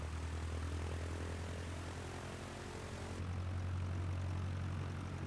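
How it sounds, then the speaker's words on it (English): A Textron Aviation propeller plane in Microsoft Flight Simulator drones steadily with a loud, constant engine hum throughout, with no talking. "I did pick the Textron Aviation. It's a nice slow flying plane"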